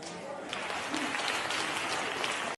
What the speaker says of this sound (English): why is the crowd clapping for this?